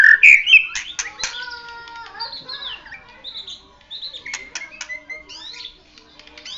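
A four-month-old Bahorok white-rumped shama sings loudly and close by in varied, rapid phrases of whistles, trills and sharp chirps, with brief pauses between bursts.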